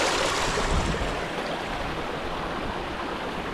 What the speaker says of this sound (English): There's a little secret waterfall down here.